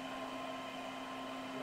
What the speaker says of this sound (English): while he's under the dryer